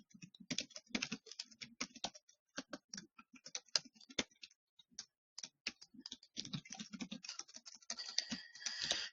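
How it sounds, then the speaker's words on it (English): Rapid, irregular clicking of keys on a computer keyboard, close and fairly quiet, with bursts of strokes and short pauses throughout and no talking. "let me type"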